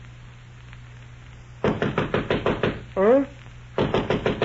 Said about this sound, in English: I was sleeping soundly when Mr. Humphrey knocked on my bedroom door.